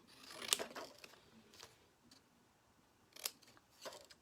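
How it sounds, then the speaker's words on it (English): Craft scissors snip ribbon in a couple of quick, crisp cuts spaced a few seconds apart, with fainter handling rustles between them in a quiet room. "so you can just take your scissors"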